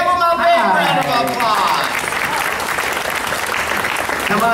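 A large audience at a bird show in Disney's Animal Kingdom claps and cheers loudly and steadily, a dense wash of applause that holds for several seconds with a voice briefly audible at the start.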